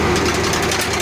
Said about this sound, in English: I'll get this engine warmed up good.